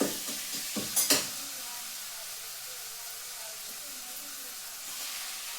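Nattukozhi chicken curry meat hitting a hot pan on a stove, a few sharp sizzling bursts at the start settling into a soft continuous hiss, fairly close.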